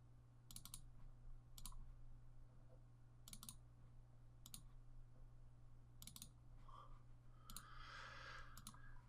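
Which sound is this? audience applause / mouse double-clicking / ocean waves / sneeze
mouse double-clicking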